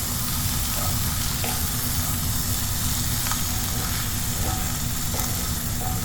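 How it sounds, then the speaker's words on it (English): Tuna filling with cilantro sautéing in a pan over a low flame, a steady dense sizzle and crackle running throughout with occasional soft stirring clicks, close and continuous with no voices. "then cilantro leaves, keep sauteing"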